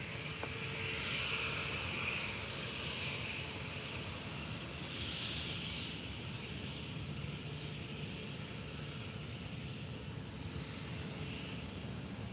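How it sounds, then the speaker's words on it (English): A Jet2 Airbus A330-200 at Faro Airport gives a steady, moderately distant jet roar that holds evenly throughout with a broad rumble and no voices. "the classic Jet2 A330-200 at Faro Airport."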